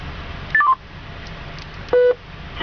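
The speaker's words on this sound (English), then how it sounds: "Now I can make a call." Touch-tone dialing beeps from a phone being used to place a call inside a car: a quick run of three short descending tones, then a single longer tone a moment later, over quiet cabin hum.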